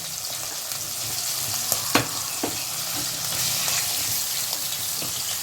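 Hilsa fish frying in a pan, with a steady close sizzle and crackle throughout and a few sharp pops and stirring clicks rising above it.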